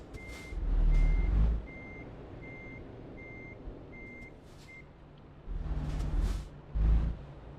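A truck backs up with a steady series of evenly spaced reversing beeps, bracketed by loud bursts of engine rumble and air hiss before and after.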